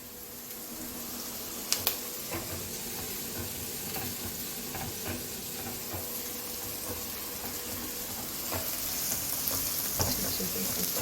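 Green chillies and curry leaves frying in a pan while being stirred, a soft continuous sizzle with scattered utensil taps and a couple of sharper clinks, fairly quiet and close, no talk.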